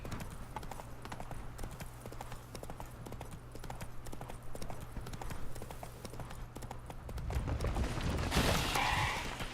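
Roach the horse in The Witcher 3 clip-clops along steadily, hoof beats regular and close under ambient game music, with a louder burst of activity near the end.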